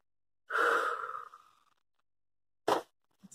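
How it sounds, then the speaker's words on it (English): A person takes a deep breath, one long audible exhale fading over about a second, then a short sharp breath after a pause, close and clear in a quiet room. "let's take a few deep breaths"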